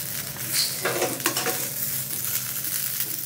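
Banana pieces fry in a pan for a spicy dry fry while a utensil stirs and scrapes them, the close, steady sizzle broken by a few clattering scrapes against the pan.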